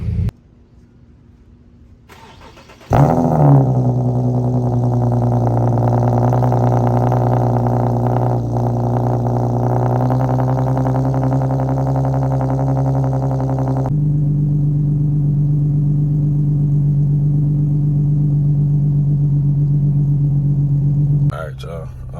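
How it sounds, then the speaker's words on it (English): A car engine that has been sitting for a while cold-starts with a sharp catch, then settles into a loud, steady idle that drops to a lower, even note partway through before cutting off. "I'm gonna take a video and show y'all the cold start."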